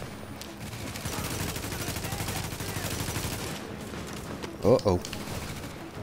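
Automatic gunfire in The Division video game, a rapid rattling burst of shots through the first few seconds, then a quieter stretch, with someone briefly speaking near the end.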